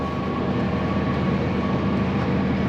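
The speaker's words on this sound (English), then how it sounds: "drilling a tram line as we speak" A tractor pulling a seed drill while drilling a tram line in a field gives a steady, unbroken mechanical drone, heard from close by with no pauses.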